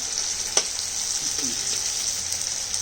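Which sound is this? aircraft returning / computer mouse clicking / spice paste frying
spice paste frying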